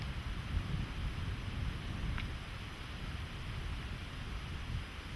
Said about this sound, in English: Here we have a beautiful trade wind breeze coming through.